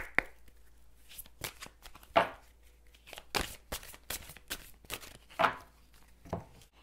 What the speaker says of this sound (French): Je vais essayer de retirer une carte.